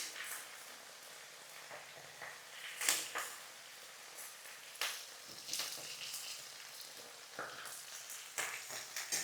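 Cauliflower and potato pieces frying in a pan for a winter vegetable dish, a faint crackling sizzle with scattered brighter pops and scraping touches, no talking.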